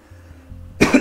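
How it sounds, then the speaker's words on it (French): One person coughs twice in quick succession, close to the mic, after a quiet stretch with a faint low background hum. "je tousse beaucoup"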